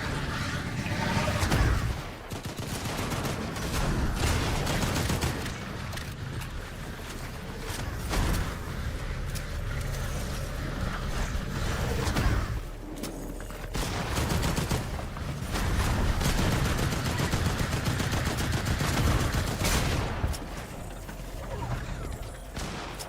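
Shotgun gunfire in a video game, heard as a dense, continuous barrage of loud shots and bursts that fills the whole stretch, with talk mixed in.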